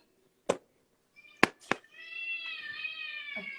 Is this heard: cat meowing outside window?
yes